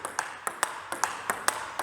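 Table tennis ball striking a Butterfly Viscaria blade in a steady rally of bright, ringing pings, about eight evenly spaced hits, close and clear.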